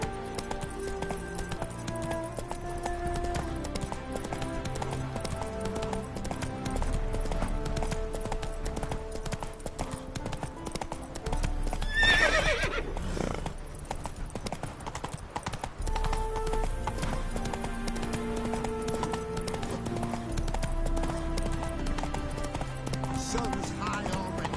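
In The Witcher 3: Hearts of Stone, the horse Roach gallops with steady, rhythmic hoofbeats throughout, laid over music and game ambience. A brief louder swell comes midway, and a voice speaks.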